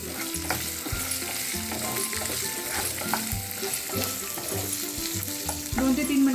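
Onion and bell pepper sautéing in a pan for baby corn chilli, a steady close sizzle with frequent scraping stirs and clinks of a utensil, and no one speaking.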